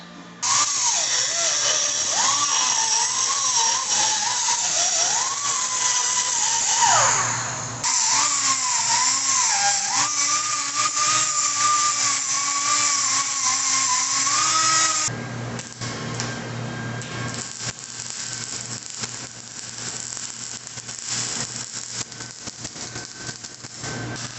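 A loud, steady high-pitched whine of a power tool grinding on metal, with pitch wavering, then shifting to a rougher, noisier buzz partway through, during welding repair of a badly deteriorated exhaust pipe on a Jeep Compass.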